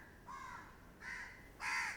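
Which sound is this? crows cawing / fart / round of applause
crows cawing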